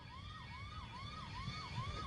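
Ambulance siren in Gujarat as a political convoy passes: a faint, distant wailing tone rising and falling about five times over a low traffic rumble.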